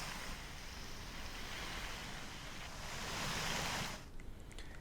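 A swollen river in Kodagu overflowing its banks after heavy rain, a loud continuous roar of rushing water that fills the whole clip without any voices.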